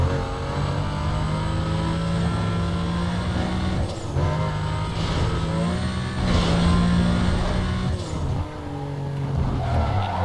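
Race car engine in Need for Speed Most Wanted, a Porsche, revving loudly and steadily for the whole stretch, with rising and falling pitch sweeps and bursts of skidding tire squeal.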